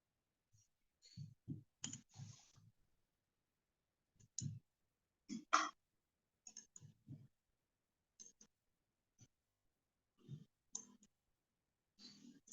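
A computer keyboard is tapped in short bursts of separate keystrokes with pauses between them, close and fairly quiet, with faint breathing and no speech.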